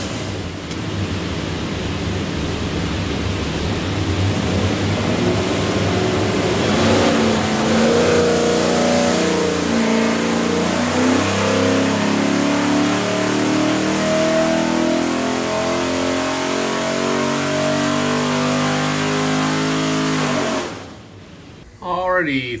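A stacked 347ci Ford V8 with a custom hydraulic roller cam revs hard on a dyno, a loud, sustained roar that climbs in pitch for about twenty seconds before cutting off abruptly.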